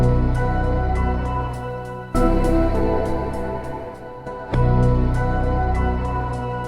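Boom bap beat loop for a Metroid Dread remix, run through a lo-fi Wolf compressor that adds a steady wash of white noise, with punchy repeating drum hits over a dense sustained bed, loud and without talk.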